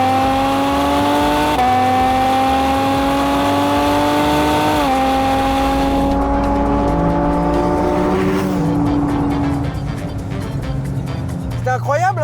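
A Porsche Cayman GT4 RS with its exhaust closed revs up to about 6000 rpm, the engine note climbing in steady steps before lifting off into rushing, crackling noise; the car sounds close and loud.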